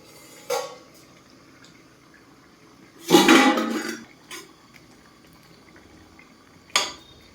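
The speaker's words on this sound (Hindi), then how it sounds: "उसको उगार कर चलाते हैं।" A vegetable curry is stirred in a metal cooking pot, with a few sharp clanks and scrapes of a utensil against the pot, including one longer scraping burst, over a quiet background.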